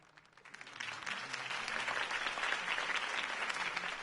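A crowd in the video game Batman: The Telltale Series applauds steadily, building quickly from quiet to a full, sustained clapping that fills the space.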